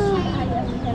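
Chickens for sale at a roadside stall beside a school in Jakarta, short clucking calls heard close over busy street noise and a person speaking.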